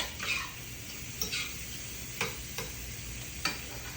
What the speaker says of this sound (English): I'm going to flip those shrimp back over